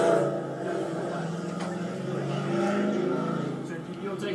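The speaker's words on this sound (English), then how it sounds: "that car was real loud" A loud car passes close by outdoors, its engine roar swelling and fading steadily over a few seconds while people talk nearby.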